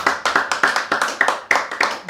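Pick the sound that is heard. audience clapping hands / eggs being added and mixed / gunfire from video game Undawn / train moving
audience clapping hands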